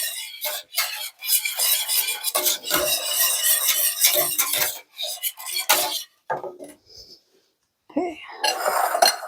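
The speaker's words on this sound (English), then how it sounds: "I just got to give the soup another quick stir here" Cream of broccoli soup stirred in a pot with a spoon, giving close scraping and clinking strokes in quick bursts, with brief pauses between them and no talk.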